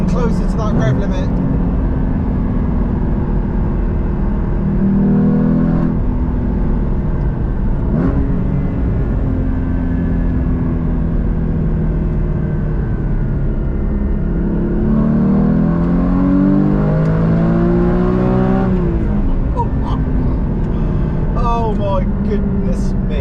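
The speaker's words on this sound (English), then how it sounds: "We're creeping closer to that rev limit." Porsche GT4 engine climbing through the revs toward its limit from inside the car, a sustained loud rising drone with pitch sweeps and a shift, while someone talks over it.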